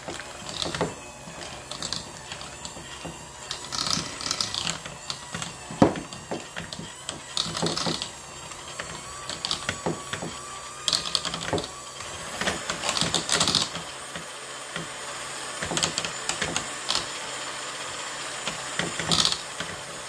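An electric hand mixer running on low through cookie dough ingredients for peanut butter cookies, a continuous whirring motor with rattling and knocking of beaters against the bowl, uneven in loudness, no talking.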